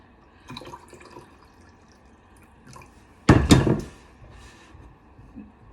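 Warm water pours into a measuring cup for sourdough in a home kitchen, a short loud splashing burst in the middle framed by faint drips and small kitchen clatter.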